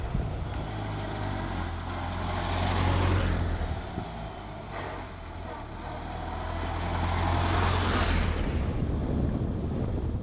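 A vintage Soviet Ford Model A car drives along with a continuous low engine drone and rumble, swelling and easing twice as it moves, heard up close with no talking.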